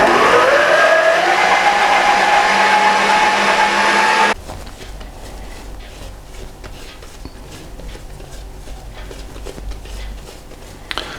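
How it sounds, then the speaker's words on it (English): Loud whirring drone of a food mixer kneading bread dough for garlic bread, a rising motor whine that settles and holds, then abruptly drops to a quieter, lower rumble with faint knocking for the rest. "So the dough's been working in the food mixer for 10 minutes."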